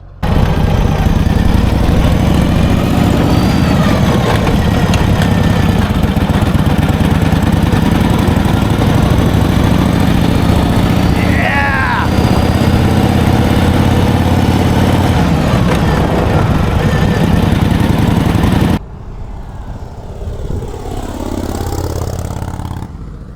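A 1946 Harley-Davidson FL Knucklehead motorcycle engine runs loud and steady for its first start in 20 years, a close, continuous rumbling idle that drops abruptly near the end to a quieter, muffled tail.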